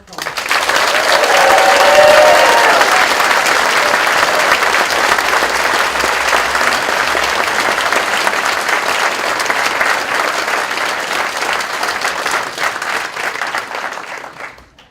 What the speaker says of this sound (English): I think we might all give our class of 2019 graduates in LIT a big round of applause.